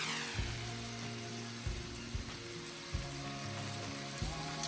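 Prawns pan-frying with lemon slices and thyme tucked between them, a steady close sizzle and crackle throughout with a few soft pops and low background hum, no talking.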